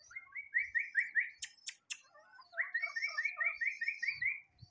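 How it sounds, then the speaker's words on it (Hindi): A man whistles in two runs of quick, trilling notes, clear and close, to call a pigeon he is hand-training with feed. "मैं सीटी मारता हूँ इसको ऐसे।"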